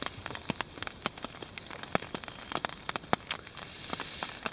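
Rain falling outdoors by a river on a cold morning, individual drops tapping sharply and irregularly close by over a faint wet hiss, no voices.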